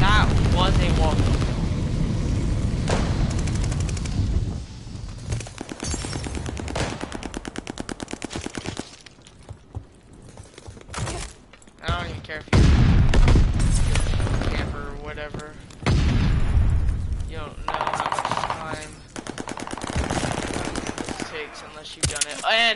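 Rapid automatic gunfire and shots in Call of Duty: Vanguard multiplayer, loud bursts and sustained firing with explosions, dense through most of the stretch, with a player talking over it.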